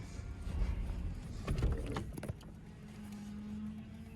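A car pulls away, heard from inside the cabin as a low engine rumble with a brief whir and rattle, then settles into a steady quiet hum.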